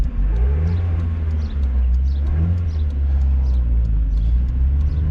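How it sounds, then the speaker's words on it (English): A Mazda Miata being driven with a suspected clutch or throwout bearing fault gives a continuous low engine drone and rumble, with faint whirring and slight rises in pitch throughout. "Pretty sure that's either the clutch or the throwout bearing."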